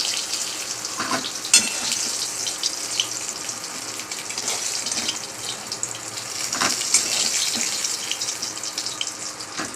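Fish fry in a pan with a continuous close crackle and hiss, broken by a few sharp clicks and spatters, and no voices are heard.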